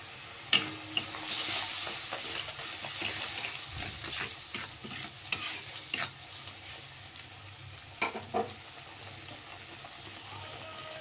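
Ground coriander, cumin, turmeric, chilli, salt and sugar sizzle in hot oil as they are stirred together in a pan for palak paneer, with scraping strokes and clinks of the spoon up close.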